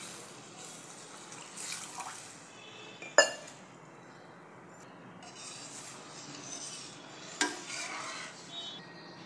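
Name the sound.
water poured into pot of broken wheat (dalia)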